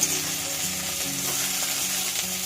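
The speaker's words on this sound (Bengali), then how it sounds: "সিমটা একটু আমি ভাজা হতে দেবো" Broad beans (sim) frying in a pan for a mustard-paste curry give a steady, close hiss of sizzling oil, continuous and even with no talk.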